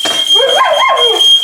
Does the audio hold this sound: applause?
no